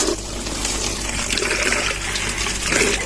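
Borewell water gushes into a bucket, a steady, close, full rushing and splashing stream that stays loud and unbroken from start to end.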